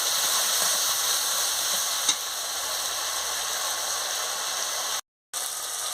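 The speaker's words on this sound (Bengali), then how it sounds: "পরিমাণ মতন একটু মশলার জল দিয়ে দিচ্ছি, দিয়ে মশলাটাকে ভালো করে কষিয়ে নিচ্ছি।" Spice paste thinned with a little spice water frying in a pan, a dense continuous hiss and sizzle with a faint stir, briefly cut out near the end, no voices.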